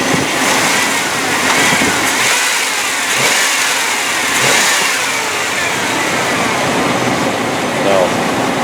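A 1997 Chevy C1500 pickup engine runs steadily at close range, a continuous mid-range drone with a few slight swells in revs across the stretch, with no talk over it.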